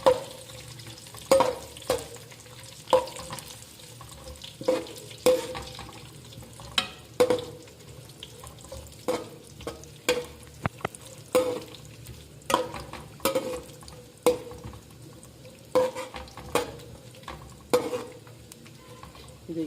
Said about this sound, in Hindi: अब इसमें किशमिश डाल देंगे, खोपरा और ये बादाम। इनको थोड़ा फ्राई करेंगे इसके साथ।